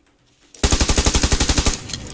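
An automatic weapon in the PC game PUBG Lite fires one loud, rapid burst of about fifteen evenly spaced shots after a brief quiet start, then the sound fades out.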